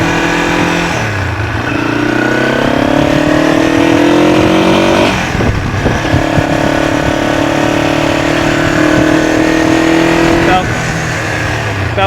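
A Honda CL450 motorcycle engine runs close by, revving up in rising sweeps, dropping back, then climbing again in a second long rev before easing off, loud and alone.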